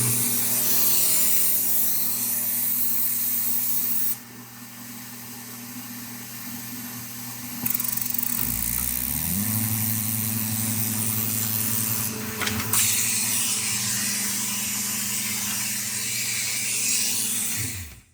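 Baum 714 Ultrafold XLT air feed paper folder running, a steady loud mechanical hum and whir with the air feed kicking in partway, tone dropping and shifting as sheets feed through, continuous throughout.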